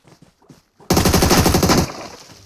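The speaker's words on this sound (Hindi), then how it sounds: "इसका एक बंदा पीछे से मेरे पे फायर करता है" A few faint taps give way to a loud, rapid burst of automatic gunfire in the mobile game PUBG/BGMI, lasting about a second before fading into a softer tail.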